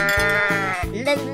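A sheep bleats in a few wavering, nasal calls, close and fairly loud, with no other sounds around it.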